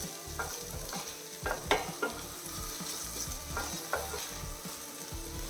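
Finely chopped tomatoes sautéing in a pan over a medium flame, with a steady soft sizzle under repeated stirring scrapes and light clacks of the spoon, close up and without speech.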